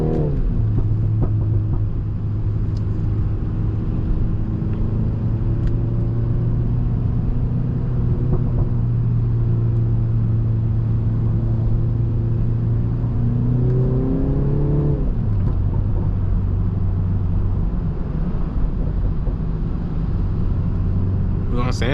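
A 340 hp BMW 330i with a four-cylinder engine accelerating from inside the cabin, a steady droning engine note that climbs through the gears, drops at a shift and rises again.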